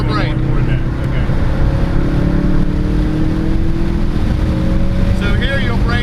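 A car engine droning steadily during an on-track driving lesson with an instructor riding along, loud and constant with heavy wind rush and a faint rising pitch, an instructor's voice talking over it.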